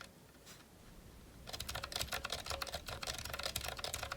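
Unlubricated mechanical keyboard switches with pingy springs, typed quickly and close up after a quiet start, giving a dense clatter of sharper keystrokes with a springy ring on the upstroke.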